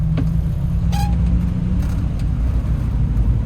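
A Honda Integra with an LS transmission accelerates down a drag strip, its steady loud engine roar and low rumble holding without a break, with a brief whine partway through.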